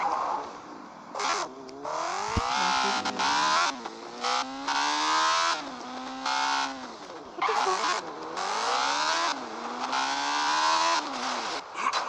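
Motorcycle engine in the video game Gangstar Vegas, loud and close, revving repeatedly with rising and falling pitch in bursts, cut by brief gaps over about twelve seconds.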